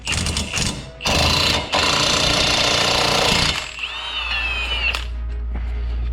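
Impact wrench tightening an axle nut, loud close hammering bursts in several quick rattling runs, followed by an engine-like hum and a high whine as the tool winds down.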